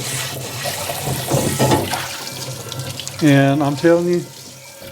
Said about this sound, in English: Give this a quick rinse and put it away.